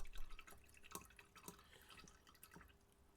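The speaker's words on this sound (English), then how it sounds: "Apologies if you can hear the water." Water dripping into a sink near a home stream setup: irregular sharp drips, several clearly audible at uneven intervals, over a faint background hiss, quiet and close with no talk.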